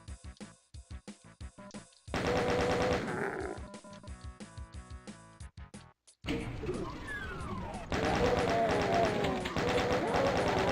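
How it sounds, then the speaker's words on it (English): Rapid chaingun fire from the video game Doom, a fast steady rattle of shots in loud bursts mixed with other gameplay effects and explosions, with game sounds filling the whole clip. "I got the chain gun, right?"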